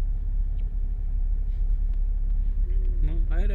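A car pulls away slowly in first gear, its low engine rumble steady and close, with a person speaking near the end.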